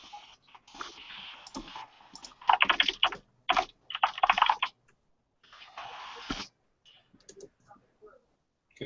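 Loud clicky computer keyboard typed on up close, bursts of rapid clacking keystrokes separated by short pauses, with no talking.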